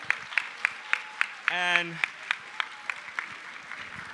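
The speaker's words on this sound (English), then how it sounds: "Can we give them a round of applause" Audience at a high school anniversary assembly responds with applause in the hall, a short swell of clapping amid a string of sharp, evenly spaced percussive hits, with a brief burst of speech in the middle.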